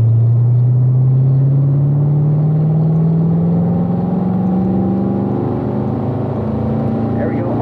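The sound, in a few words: race car accelerating on track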